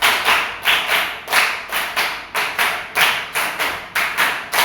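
A primary school class claps together in counted rhythmic groups, sharp bright bursts of hand claps repeating in regular clusters, loud and close with no talking.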